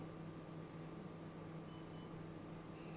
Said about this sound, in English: To stop recording a video, like now, it should beep twice